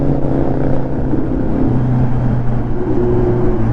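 A motorbike engine heard from some distance gives a continuous, fairly loud, droning hum with steady tonal harmonics and a slight shift in pitch partway through.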